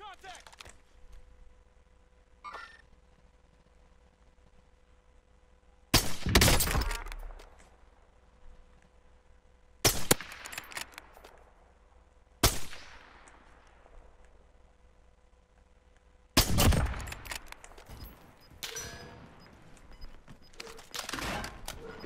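Loud bursts of video game gunfire break out several times, separated by quieter stretches, while people talk between and over the shots.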